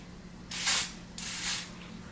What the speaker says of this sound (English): in with my lace spray and we're gonna do 3 layers